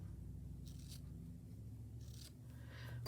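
Scissors cut a craft piece in half during a slow-stitching session, soft quiet snips coming in a few short bursts over a low background hum.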